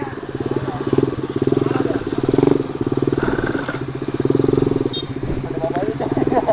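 Small motorcycle engine revving up close during a mini-moto street race, a steady buzzing drone that swells and eases in repeated surges, with voices faintly mixed in.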